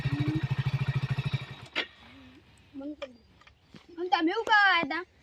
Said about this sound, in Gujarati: બાઈક